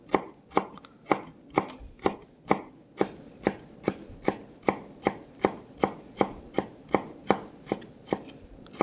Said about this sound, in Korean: 자, 조그만하게 썰어줍니다